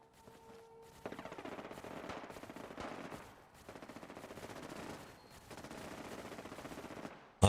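A robot fires its machine gun in Fallout 4, several sustained rapid-fire bursts of chattering gunfire with short pauses between them, moderately distant, followed by a sharp hit at the very end.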